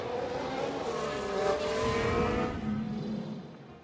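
Race cars in the F1 Manager 2022 video game, one spinning on track, give a steady, loud engine roar with smooth revving that fades slightly toward the end, with no talk over it.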